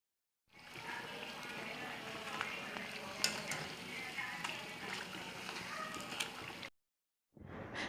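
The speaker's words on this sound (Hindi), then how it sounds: "अब इन समोसों को हम तेल में डालना शुरू करते हैं और इनको हम गोल्डन ब्राउन होने तक फ्राई करेंगे" Keema samosas deep-fry in hot oil in a kadhai, a dense, even bubbling sizzle that runs for several seconds, then cuts out briefly before resuming.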